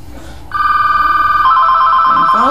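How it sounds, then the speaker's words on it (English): A telephone rings indoors with a loud steady electronic trill, starting abruptly and holding continuously, over faint low background noise. "And phone's ringing."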